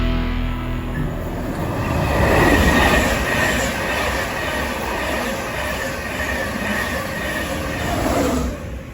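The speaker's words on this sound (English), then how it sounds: "So I am currently at Grantham Station waiting for my train to London King's Cross." Train rumbling steadily at Grantham railway station in England, loud and close, with rolling wheel clatter and a faint high squeal over a continuous low roar that swells midway and holds throughout.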